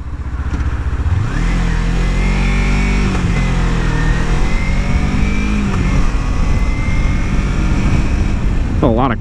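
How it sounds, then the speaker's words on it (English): Several cars pass on a road, one revving aggressively like a race car, with engine drone rising and falling loudly up close; people talk over the traffic noise. "A lot of cars right there."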